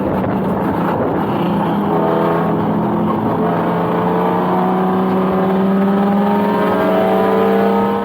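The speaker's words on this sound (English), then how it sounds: "he was pushing the car very hard to catch BisforBuild" A cheap race car driven hard on track during a 24-hour endurance race, its engine heard loud and close from inside, the pitch climbing steadily as it accelerates through the gears.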